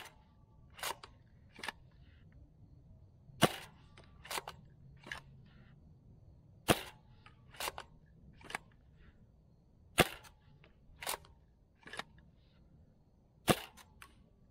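A Nerf Caliburn blaster fired again and again, each shot a sharp, close snap followed by a softer clack of the priming action, repeating in an uneven rhythm over roughly fourteen seconds.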